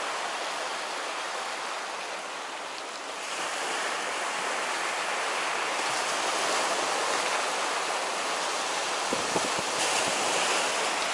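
Sea waves wash onto the shore at Zelenogradsk on the Baltic promenade, a steady broad rushing surf that swells slightly louder partway through, mixed with wind buffeting the microphone and no talking.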